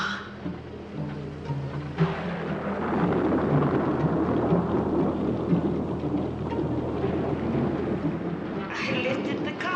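Heavy rain pours in a roaring, steady downpour while thunder rumbles low and deep underneath, loud and close throughout, in a scene from a 1977 Incredible Hulk TV pilot film.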